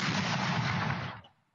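A Soviet-era Nona self-propelled mortar system fires one loud, close blast whose broad roar holds steady for about a second before cutting off, leaving a brief fading tail.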